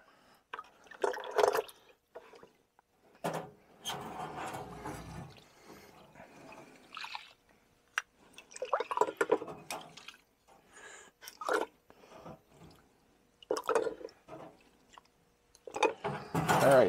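Water splashing and dripping as grimy 1983 Polaris Indy snowmobile carburetor parts are rinsed, irregular close bursts of running liquid with short pauses between them, no talking.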